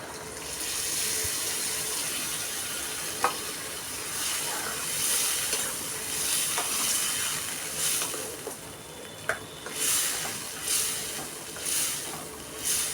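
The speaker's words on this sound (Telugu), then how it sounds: "ఇదిగోండి 4-5 టమాటాలు మిక్సీ చేసి వేసుకుంటున్నాను గుడ్లలోని." Blended tomatoes, added to fried eggs in a pan on the stove, hiss and sizzle steadily for a long stretch, with soft bubbling pops and a few sharp spatters.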